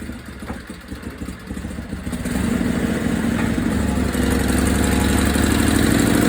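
A 1976 Sears SS16 lawn tractor engine runs steadily and close, sputtering and uneven at first, then settling into a louder, rougher drone that holds to the end.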